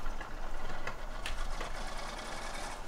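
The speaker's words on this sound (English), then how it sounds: "Sounds... the engine is broken" The broken engine of a T150 mixer truck in a Slovak village farming game runs with a steady, rough, buzzing rattle, with faint irregular knocks and no speech.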